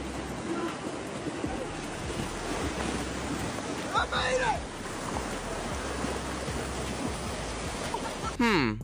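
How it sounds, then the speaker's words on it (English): People tubing down a mini waterfall amid steady rushing, churning water, with gusty wind buffeting and a couple of short louder splashes midway and near the end. "Check out these guys go tubing on a mini waterfall."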